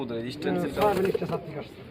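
Pigeons coo at a farm, a brief soft burst of throaty cooing mixed in with nearby voices talking.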